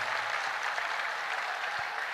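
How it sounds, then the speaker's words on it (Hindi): Loud, sustained applause from a large audience at a Hindu religious gathering, dense clapping that holds steady and close throughout without pause. "ये एक बार ताली जोरदार बजा करके धन्यवाद दो।"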